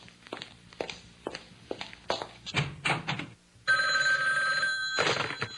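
A toy tooth fairy phone rings with a steady electronic trill from about the midpoint, loud and close, after a run of soft thumps and footsteps.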